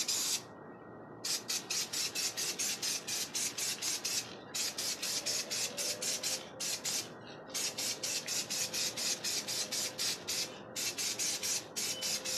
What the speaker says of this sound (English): we're going to take this outside and spray the primer on it